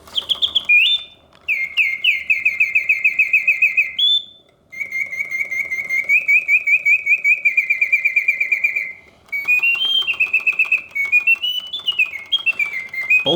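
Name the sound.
vintage Reuge double singing bird cage automaton birdsong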